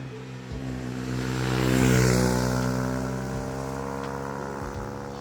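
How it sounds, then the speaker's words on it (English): Malaguti Dune 125 motorcycle accelerating on an open road, its engine note climbing through gears with a rising and falling drone that peaks midway, loud and close, no talking. "So we're now with the Malaguti 125 on the open road. So let's see what it can do."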